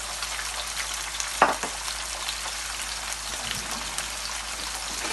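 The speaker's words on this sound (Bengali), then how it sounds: "এখানের মধ্যে যে শাক ভাজার জন্য তেল দিছিলাম আর এখানে রসুন পেঁয়াজ আর যে মরিচগুলো দিয়ে দিলাম" Garlic, onion and chillies fry in oil as the base for cooked greens, a soft, steady sizzle with one sharp clatter from the pan early on. The sizzle stays quiet and continuous, and no one speaks.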